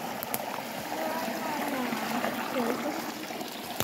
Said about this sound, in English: We're following this river, and there's a nice waterfall right there.